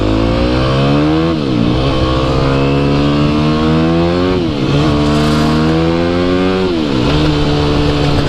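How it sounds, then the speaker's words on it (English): Dirt bike engines rev hard and loud while riding on a sunny day in Mexico, the pitch climbing and dropping in repeated waves as the riders shift and accelerate, with no talking. "We just want to give you some shred time in on the dirt bikes before we go do that."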